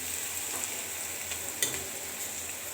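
Food fries in a pan with a soft continuous sizzle, punctuated by a few light stirring scrapes and one sharper clink, with no speech.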